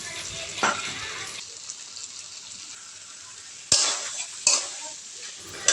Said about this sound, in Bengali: মাংসটা নেড়ে চেড়ে অনেকক্ষণ কষে নেওয়ার পর ভেজে রাখা আলুগুলো দিয়ে আবারও কিছুক্ষণ কষে